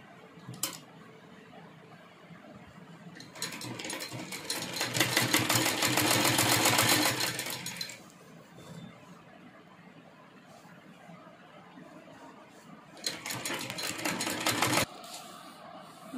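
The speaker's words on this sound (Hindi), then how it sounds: "यहाँ पर इसे ऐसे फोल्ड करके और यहाँ स्टिच कर लेंगे" A sewing machine stitches a folded seam on an A4 document file organiser in two separate runs, the first long and steady and the second shorter. Quiet handling noise fills the pauses and no one speaks.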